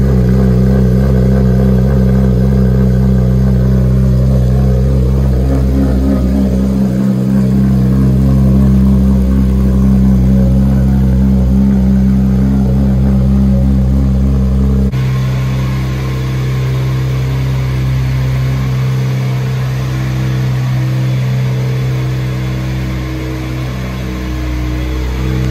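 A supercharged Nissan 370Z engine idles steadily with a deep, throbbing rumble and a faint whine, close by and continuous, with no voices.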